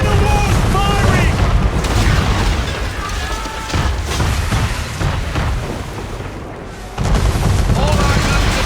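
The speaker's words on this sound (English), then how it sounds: "We're under attack! Man of war's firing!" Man-of-war warship cannons firing in Assassin's Creed 3, heard as a loud, continuous barrage of booming blasts and crackling bursts with a brief lull near the end before the firing resumes.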